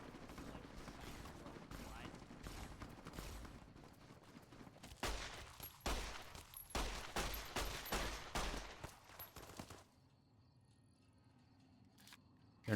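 Rapid video game gunfire crackles in dense bursts for about ten seconds, loud and close, with a few isolated shots and mechanical clicks as the action dies down near the end.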